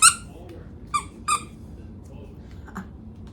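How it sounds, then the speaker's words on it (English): A squeaky plush donkey dog toy gives three short, high squeaks spaced about a second apart, loudest at the start, with a fainter squeak near the end against quiet room tone. "It squeaks. All the things squeak."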